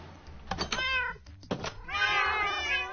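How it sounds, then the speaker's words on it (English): Several overlapping cat meows from Minecraft, a house full of cats in the game, rising and falling in quick bursts, then one longer, louder meow near the end with no talk over it. "My house full of cats."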